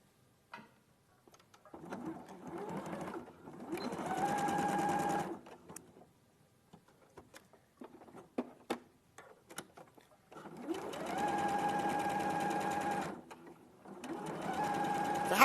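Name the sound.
sewing machine top stitching along a seam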